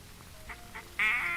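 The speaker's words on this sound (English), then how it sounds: "The mallard caller is easier to use than the teal caller." Mallard duck call blown through a game caller in a duck hunting simulator: a few short soft quacks, then a louder, sustained raspy call near the end, with no talking.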